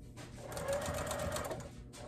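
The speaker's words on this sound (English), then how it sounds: "So I'll just stitch a little bit and then make sure I'm still heading in the right direction." A domestic sewing machine stitches fabric for an upcycled dog bed in one steady, close motor whir lasting about a second and a half, with quiet room sound before and after.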